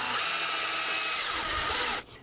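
Power drill pre-drilling a pilot hole into thin, easily split deck board wood, a steady close whirring grind lasting about two seconds before cutting off abruptly.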